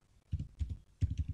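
Quick irregular bursts of keystrokes on a computer keyboard while text is typed into a field in video editing software, close up and fairly quiet, with no talking.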